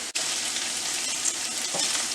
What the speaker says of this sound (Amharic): እዚህ ጋር የታጠበ ስፒናች አለኝ እዚህ ጋር እሱን ጨምሬ በጣም ብዙም አላበስለውም።